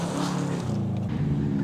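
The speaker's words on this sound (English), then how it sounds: "Well known as a rally car, the Subaru Wrx." A Subaru WRX rally car runs at a rally sprint, its engine droning loud and near with a steady, throaty tone that shifts pitch slightly.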